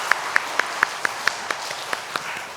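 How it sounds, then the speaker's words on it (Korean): Sparse, evenly spaced hand claps, about a dozen over a couple of seconds, ring out at moderate distance in a church as a congregation applauds the women's choir during a Sunday praise service. "우리 여전도의 찬양대에도 박수로 한번 축복하는 시간을 갖겠습니다"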